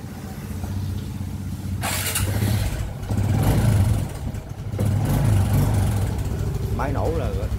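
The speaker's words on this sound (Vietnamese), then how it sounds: "Máy nổ là rất đặc trưng luôn." A used vehicle's engine starts and runs, a rough, mid-pitched idle that rises in bursts of revving and then settles, with someone speaking briefly near the end.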